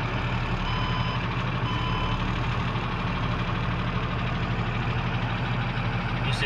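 A 2011 Ford F-650 4x4 truck engine rumbles steadily at idle, a low continuous drone with a faint high whine, running alone without any talk.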